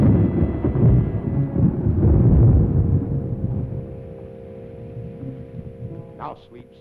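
A deep, rolling rumble of thunder swells and slowly fades, with a faint higher noise near the end.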